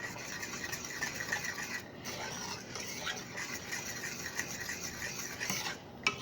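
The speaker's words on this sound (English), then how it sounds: "you just stir this all together until it looks like you've melted a pot of chocolate" A spoon stirs a thick no-bake oatmeal cookie mixture of melted chocolate and cocoa in a pot, giving a steady close scraping and rasping that runs continuously with brief pauses.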